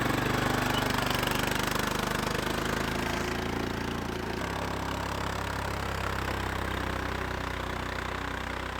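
A four-wheeler ATV engine runs steadily at a low rumble, close and continuous throughout, in snowy woods during a winter firewood trip, with no talk.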